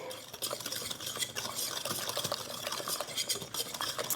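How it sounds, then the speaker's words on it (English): Banana bread batter is stirred by hand with a Danish dough whisk, producing brisk, continuous wet slapping and scraping against the bowl, close and fairly quiet. "I'm going to use this Danish dough whisk"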